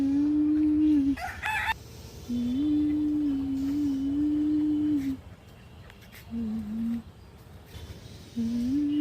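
A chicken calls nearby in long, drawn-out tones, repeating several times with short pauses, over a low background hum.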